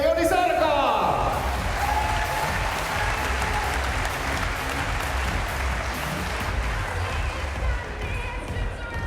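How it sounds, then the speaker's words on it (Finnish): An audience at a competition match between Joni Sarkala and Timo Suihkonen breaks into loud, sustained applause with scattered whoops and cheers, steady throughout and gradually easing toward the end. "antakaa loistavat aplodit Timo Suihkonen ja Joni Sarka!"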